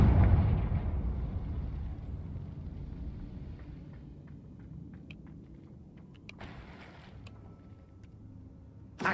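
A Confringo blasting spell exploding in a Harry Potter video game, a loud booming blast that decays into a low rumble, with scattered small crackles and a brief burst later on.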